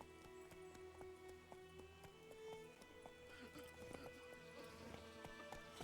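Horse hooves galloping in The Witcher video game, a rapid rhythmic clip-clop running continuously under quiet game music and faint ambience.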